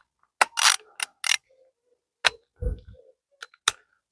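A hand ratchet wrench works the head bolts on a Cummins engine during a head gasket job, giving short bursts of close, crisp clicking with pauses between strokes.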